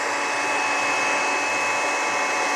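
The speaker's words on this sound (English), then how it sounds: "Hair dryer helps." Steady, loud whoosh of a hair dryer blowing continuously over a wet watercolor painting in a studio, a constant broadband roar with no breaks and no voices.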